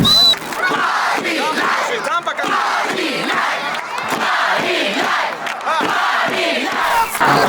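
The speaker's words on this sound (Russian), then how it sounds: "Пока болельщики подгоняют" Football fans of Ravshan Kulob roar and chant in a loud, dense stadium crowd, a steady wall of rhythmic shouting that holds for the whole stretch without a pause.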